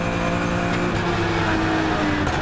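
Race cars in a Supercar Challenge race at the Zolder circuit, with steady, loud engine drone and harmonic whine from a close onboard perspective, continuous over the whole stretch with no talk.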